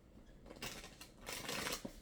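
Two quick bursts of cards being riffled and shuffled, close and fairly quiet, with a brief pause between them and no voices.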